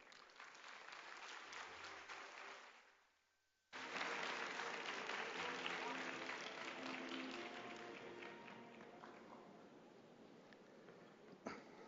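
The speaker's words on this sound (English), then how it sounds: "Please welcome him with a big round of applause." Broad, steady audience applause at a Jeju Forum special lecture, welcoming former Timor-Leste president José Ramos-Horta; it fades briefly, then swells again as a full, even roar of many hands and slowly tapers off.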